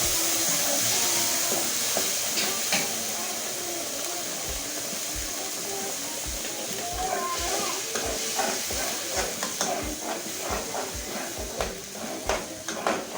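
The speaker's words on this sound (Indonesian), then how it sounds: "kita tumis sebentar bumbunya ya, bumbu gulainya ya" Blended gulai spice paste sautéing in a pan, a steady broadband sizzle and hiss with scattered stirring scrapes and clicks that grow busier toward the end, no voices.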